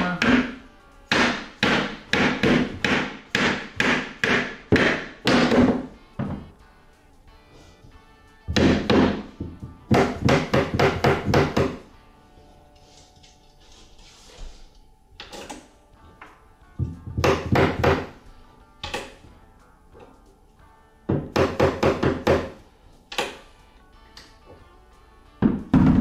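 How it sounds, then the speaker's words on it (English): Loud, close hammer blows on a block of wood, used to tap a porch seat into place, come in quick rhythmic bursts of several strikes each, separated by short pauses and softer thuds. "you can use a rubber mallet, or you could use a block of wood with a hammer"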